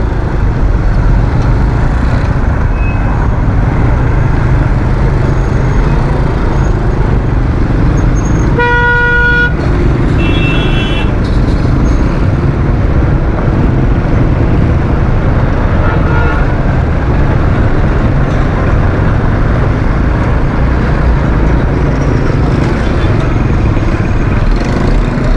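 Karachi street traffic stuck in a jam near a bus stop, with a steady roar of car and motorcycle engines. One loud horn blast stands out, followed by a shorter honk, and faint toots sound further off.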